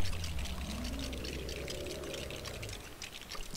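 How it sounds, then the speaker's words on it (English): Water spraying in Lego Marvel Super Heroes: a steady, continuous hissing gush of water lasting a few seconds, fairly loud and alone, with no voices. "So we spray him with water"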